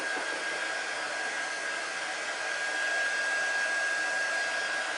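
A hair dryer blows steadily on chalk paste spread over a silk screen stencil, giving a constant close airy whir with a thin tonal whine and no speech.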